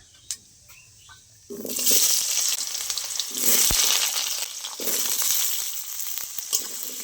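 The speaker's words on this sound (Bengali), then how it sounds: "প্রথমে কেটে রাখা আলুগুলো দিয়ে দেবো তেলের ওপরে" Cut potatoes dropped into hot oil for a ridge gourd and poppy seed curry: after a quiet start, a sudden loud sizzle bursts up and continues, swelling in waves with a few sharp knocks.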